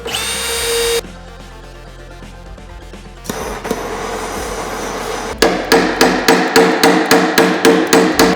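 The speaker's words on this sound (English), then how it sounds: "we're gonna use a little bit of a wrench and pound out that dent" Hard metal tapping works out a dent in a Porsche steel body panel, first with a grinding whir, then a fast run of sharp, ringing strikes, loud and close, with no talking.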